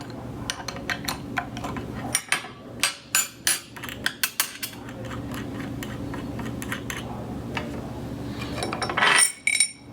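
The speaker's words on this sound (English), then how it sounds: "Take the nuts off." Nuts being removed from a Vent-Tech SWG-B assembly with metal tools, giving a run of sharp, close metallic clinks and taps in an irregular rhythm, with quieter stretches between and a busier cluster of clatter near the end.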